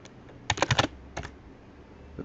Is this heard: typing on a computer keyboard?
yes